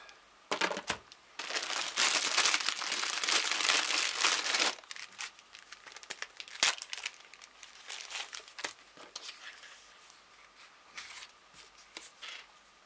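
Close, busy crinkling and crumpling of a tissue being pulled and crushed for several seconds, then scattered lighter rustles and handling noises.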